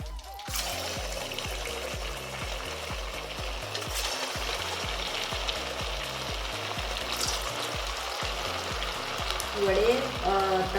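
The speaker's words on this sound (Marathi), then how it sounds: "आपले हे वडेसुद्धा तयार झालेले आहेत आता आपण हे तळून घ्यायचे आहे" Steady, crackling sizzle of rava vadas deep frying in hot oil, continuous and close, with occasional clinks and a low background hum.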